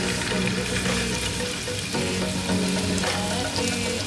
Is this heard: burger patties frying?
yes